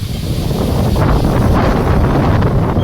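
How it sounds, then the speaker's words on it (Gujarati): Loud, continuous wind during rain buffeting the microphone near coconut and banana trees, a heavy roaring rush that barely lets up throughout. "પવન ફૂલ છે પાછો."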